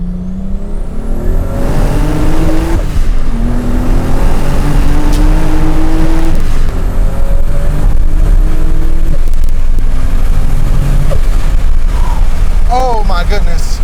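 A modified Toyota Supra accelerates hard from inside the cabin, loud engine note climbing through a gear, with a shift and more pulls, rough exhaust crackle and a voice briefly heard near the end.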